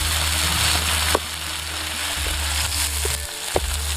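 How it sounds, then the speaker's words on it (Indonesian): Bay leaves, lime leaves and ginger sizzle in hot oil in a pan, a steady close frying hiss with a few light clinks and stirring knocks, no voices. "Tinggal masukkan daun salam, daun jeruk, jahe, kita tumis sebentar aja biar wanginya itu harum"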